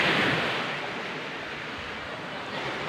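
Sea waves washing in at Bicol Beach, a steady broadband surf wash that is slightly louder at the start and then holds even, with no voices.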